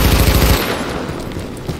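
A dense burst of rapid automatic gunfire in The Division, loud and close for about half a second, followed by a rough, noisy tail.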